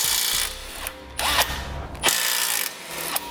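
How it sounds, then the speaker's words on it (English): A ratchet wrench with an 18mm socket removes the tow hook bolts on a 2016 Chevrolet. It gives bursts of rapid, close ratcheting clicks separated by brief pauses, and no one speaks. "Then we can take an 18mm socket and wrench"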